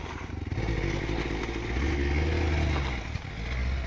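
A vehicle on an off-road trail speeds up with a rising engine drone and some rattling clatter, heard steadily from close by with no talking.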